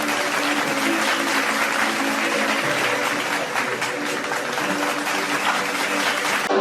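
Audience applause at an alumni meet during a name-by-name recognition ceremony, dense sustained clapping from a large crowd that fills the whole stretch without pause.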